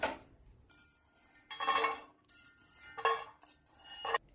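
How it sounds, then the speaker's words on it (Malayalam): Roasted nuts scooped from a pan onto a plate, with several short metallic scraping and clinking bursts separated by quiet gaps, close by. "ഇതിന് തീ ഓഫ് ചെയ്ത് ഒരു പ്ലേറ്റിലേക്ക് കോരി മാറ്റാം."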